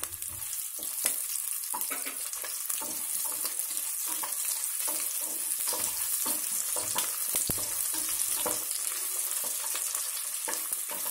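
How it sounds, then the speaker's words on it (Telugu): Chopped onion and green chillies fry in oil with cashews for prawn biryani, giving a steady bright crackling sizzle broken by frequent scraping stirs, close and unbroken, with no voices. "ఈ ఆనియన్స్ ఇవి వేగుతున్నప్పుడే"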